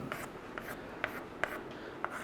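Chalk or marker scratches across a classroom board in short strokes and a few sharp taps, faint and close, with no one talking.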